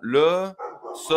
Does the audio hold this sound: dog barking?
yes